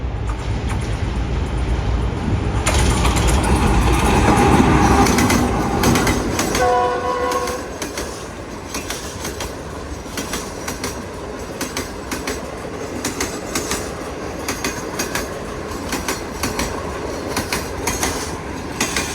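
Green Line Express passenger train passing close by, heavy rumble and rolling wagon noise, with brief horn-like tones, then steady clickety-clack of wheels continuing as the coaches roll past; no talk.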